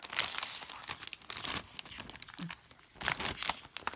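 Crinkling and tearing of wrapping paper, loud and close, in continuous crackly bursts with brief pauses.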